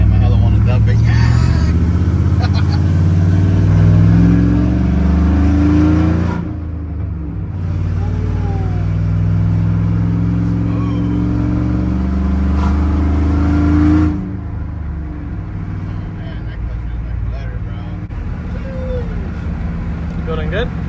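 A drift truck fitted with a new Stage 2 SPEC clutch revs loudly and steadily up close, its engine note rising and falling with a brief drop partway through, while people talk over it.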